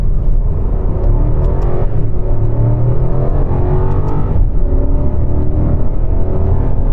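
A BMW 7 Series accelerates hard through first gear, heard from inside the cabin as a loud, steady low engine rumble whose pitch climbs smoothly with the rising revs, with no voices over it.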